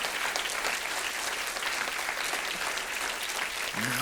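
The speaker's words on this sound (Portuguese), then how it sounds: "Você pode dar uma salva de palmas bem alto no nome de Jesus?" A church congregation claps loudly and steadily in a dense, sustained burst of applause filling the space, with a brief low vocal sound near the end.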